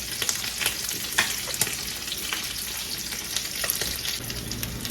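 Okra and jute leaves fry in a pan alongside dried fish, making a close, steady sizzle with crisp crackles and small popping bursts throughout, no voices.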